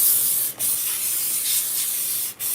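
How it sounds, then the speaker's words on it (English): Non-stick olive oil cooking spray hisses out of a can in two long, close, loud bursts, each cutting off briefly before it continues, with no talking. "So I'm using spray oil."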